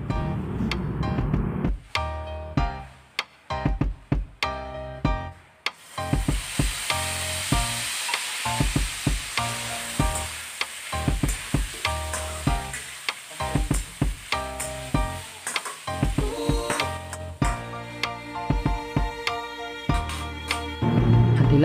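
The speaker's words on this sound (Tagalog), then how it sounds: "Ngayon magigisa tayo ng bawang at isusunod natin ng atay na bahagya natin pinirito kanina." Garlic and pork liver sizzle in a hot pan for bistek, with a steady frying hiss broken by repeated scraping and stirring clatter from a utensil.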